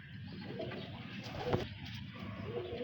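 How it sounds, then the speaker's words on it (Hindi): Pigeons of the Miyan Sahab breed coo softly and repeatedly close by, with a low rolling murmur filling the short stretch and no speech. "यह मियाँ साहब वाले कबूतर की साधना पट्ठी है"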